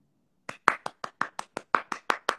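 About eleven crisp handclaps land in a steady, evenly spaced rhythm after a brief near-silence during a live stream, each clap close and distinct.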